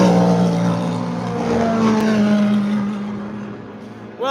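Porsche 911 race car at night beside the Le Mans circuit, a deep steady engine drone with a strong low tone, holding loud and close before easing slightly as it passes.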